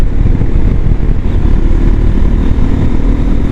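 A Hero Xpulse 210 motorcycle engine drones loudly and steadily with a rough, buzzy dirt-bike rumble, close by, with no talking.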